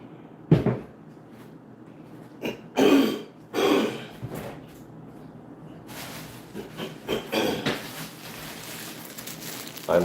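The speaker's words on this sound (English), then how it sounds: "I'm clearing my throat like that because I have asthma" A person with asthma clears their throat a few times in short, rough bursts, followed by soft rustling and handling noises nearby.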